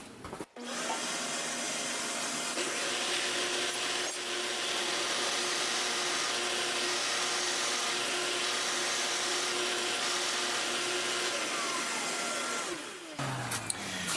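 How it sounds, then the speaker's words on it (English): A drill press bores a hole into wood and bottoms out at a preset depth stop. It gives a loud, steady, continuous whirring drone for about twelve seconds, starting and stopping abruptly, with no voices. "I've also set the depth stop, so we just drill down and it'll bottom out when it reaches the stop"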